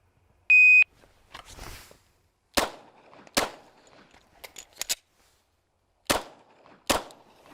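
A shot timer gives one sharp electronic beep, then a stock Glock 19C pistol fires at 5 yards, sharp cracks spaced irregularly after it, some close together and some paired, loud against an otherwise quiet range.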